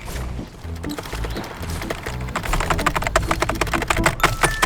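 Rapid clattering keyboard typing up close, keys struck in quick bursts that grow busier and louder in the second half.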